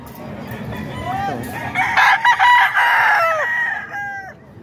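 Roosters crow repeatedly at a busy fowl market stall in Bocaue, several overlapping calls close by with clucking and crowd noise beneath.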